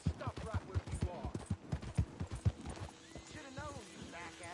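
Horses in a PS4 video game clatter through a rapid run of hoofbeats, then a couple of whinnying neighs ring out near the end, with game voices talking over the action.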